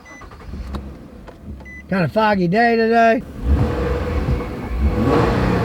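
A Nissan with a roughly 290-horsepower engine, stock exhaust with OEM replacement mufflers and 230,000 miles cranks over and starts, then idles with a broad rumble after a brief spoken remark.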